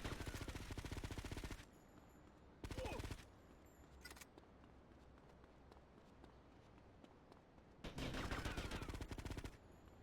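Bursts of gunfire in Grand Theft Auto: Liberty City Stories, loud rapid volleys at the start, again near three seconds and near the end, with quieter footsteps and game noise between.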